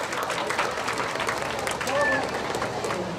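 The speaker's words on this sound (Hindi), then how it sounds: "एक बार प्लीज़ अपने आप के लिए ताली मारिए।" Schoolchildren at a rally clapping for themselves, a loud, dense wash of applause and crowd noise that holds steady for a few seconds.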